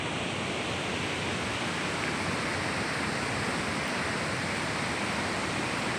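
Water runs steadily from a tap outdoors, a continuous broadband rush that stays even and moderately close without a break.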